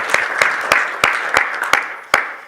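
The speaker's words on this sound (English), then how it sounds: "please applause." Scattered audience clapping at a sustainable packaging and recycling innovation summit: about eight sharp, separate claps spread over a couple of seconds, sparse rather than a full ovation, with no voices.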